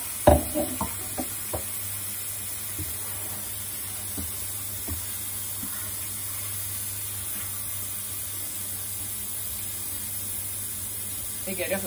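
Onions and garlic frying in a pan for a tajine with olives and mushrooms in red sauce give a steady, close sizzling hiss. A few clatters come early on, and a voice speaks intermittently over it.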